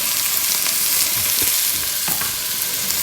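Garlic, ginger and onion fry together for a Moroccan chicken stew, a loud, steady, bright sizzle up close, punctuated by a few soft stirring knocks.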